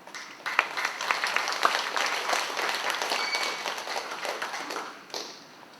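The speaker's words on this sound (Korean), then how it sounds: "박수로 앞으로 모시겠습니다." An indoor lecture audience applauds to welcome a speaker to the front, a dense, continuous crowd clapping that holds steady for several seconds and then tapers off at the end.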